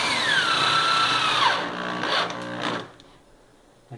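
Power drill driving screws into wood during bar kit assembly, a close, loud whirring whine that dips in pitch as the screw bites, then a second short burst before stopping.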